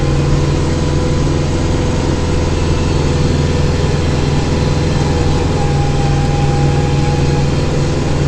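A tractor engine with a front-end loader runs steadily while clearing snow, a loud, close, droning hum with an even low rumble and no change in pitch throughout.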